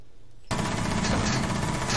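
Sustained automatic gunfire in Rainbow Six Siege, from a gun with heavy recoil, bursting in suddenly after a brief quiet moment and then running loud and continuous to the end, with no voices over it.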